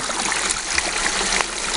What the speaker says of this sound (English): The water's just eating away the sand.